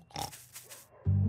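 Cartoon pig oinking and snorting, a busy burst of grunts early on, then a loud, low, sustained snort-like tone at the end, all in a short clip with no talk.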